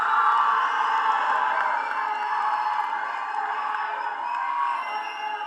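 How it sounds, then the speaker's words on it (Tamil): Cheering and applause from a crowd at a Tamil film event honouring actor Santhanam, a sustained wash of shouts, whoops and clapping that stays loud throughout. "சந்தானம் அவர்களே ஒரு பெரிய கைத்தட்டலோட"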